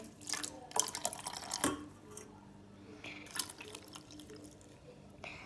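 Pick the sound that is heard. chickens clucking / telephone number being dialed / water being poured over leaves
water being poured over leaves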